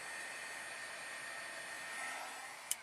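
Heat tool blowing hot air to dry ink on a handmade card, a steady, close whooshing hum held throughout with a brief click near the end.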